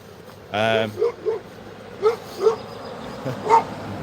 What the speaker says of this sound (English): Dog on the back of the truck.